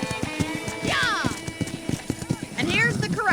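Horse hooves clip-clopping in a steady rhythm with two whinnies rising over them, from the video game Red Dead Redemption, close and clear, with speech faintly underneath.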